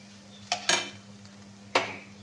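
Ridge gourd fry with coriander being stirred in a pan, giving a few separate scraping and clinking utensil strokes against the metal under a steady low hum, with faint sizzle.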